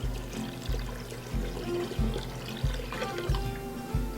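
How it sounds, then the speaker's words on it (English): Plain water poured from a quart container into a cooking pot, glugging in a steady rhythmic series of pulses about every two-thirds of a second, close and moderately loud with no talk. "I'm going to go ahead and just add 1 quart of plain water."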